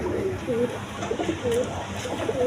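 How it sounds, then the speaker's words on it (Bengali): Large pigeons coo softly in a loft, giving a few low, rolling calls in sequence, with someone talking over them. "দেখেন একদম বিগ সাইজের কবুতর"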